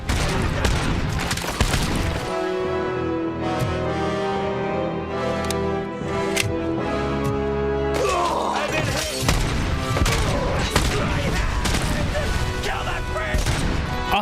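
In the RoboCop Rogue City video game, grenade launcher explosions and gunfire come as loud crashing impacts and bursts of shots over a steady tonal game soundtrack.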